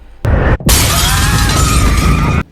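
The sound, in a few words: glass door shattering as a woman breaks through, film scene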